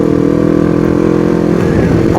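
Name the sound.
new Kawasaki Ninja motorcycle engine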